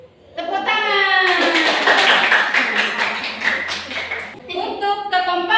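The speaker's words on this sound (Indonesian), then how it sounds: "Tepuk tangan." A fifth-grade classroom claps for the team with the highest tournament game score, a dense burst of clapping lasting about four seconds, with children's voices before and after.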